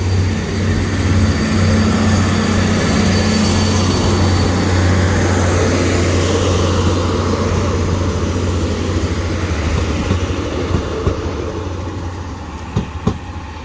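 A train passes over the Jordanstown Station level crossing in Newtownabbey, a loud, steady rumble that fills the clip from start to finish and slowly fades, with a few sharp clicks near the end and no voices.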